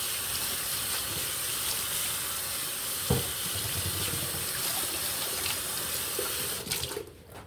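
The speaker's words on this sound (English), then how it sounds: "Wash my hands real quick." Water runs steadily from a kitchen tap while hands are washed, a constant close rushing with a brief splash midway, then the flow is shut off near the end.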